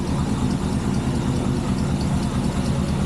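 An El Camino engine with a couple of exhaust leaks idles steadily close by, a low rumbling drone with a rapid, uneven puttering pulse throughout.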